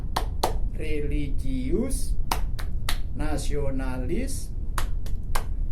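Students at an Indonesian senior high school assembly clap a quick rhythmic pattern in unison, sharp repeated claps interleaved with someone speaking over a loud, reverberant hall.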